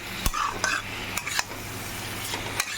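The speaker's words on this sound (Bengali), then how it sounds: "লবণ ঠবণ দিয়ে ভালো করে কষিয়ে নেবো" Chicken stir-fried with spices and salt in a pan makes brisk spatula scrapes and clinks over a low sizzle, close and alone, with no talking.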